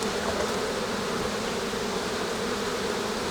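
Honey bees swarming around an opened hive, a dense continuous buzz filling the air close by, steady and loud with no voices.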